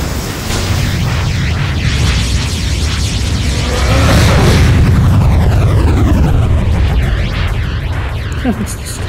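Rumbling explosions as a bridge is destroyed in the video game Universe at War, loud continuous booming and crackling blasts with sweeping game effects, under a voice talking.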